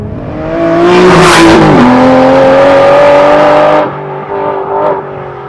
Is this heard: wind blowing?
no